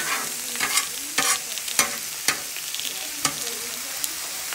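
Peeled squash sizzling steadily in a hot pan, punctuated by several sharp scraping stirs of a utensil against the pan at irregular intervals.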